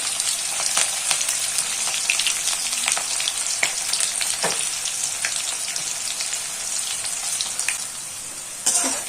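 A bright, dense sizzle of onions frying in oil, close and steady, with scattered pops and a few stirring scrapes.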